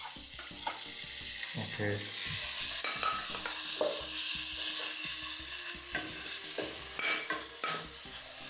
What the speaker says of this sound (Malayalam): ചിക്കൻ ഇതിനകത്തോട്ട് ഇടാൻ പോവാ